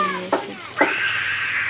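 Cut pieces of egg fry in a pan with a steady hiss, two short scraping knocks as they are turned, then the sizzle carries on alone, close and clear.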